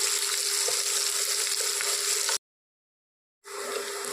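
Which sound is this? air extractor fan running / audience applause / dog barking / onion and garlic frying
onion and garlic frying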